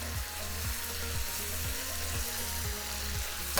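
Spring onion sizzles in a hot wok with stir-fried beef, a steady close frying hiss with regular clanks of a spatula against the metal about every half second.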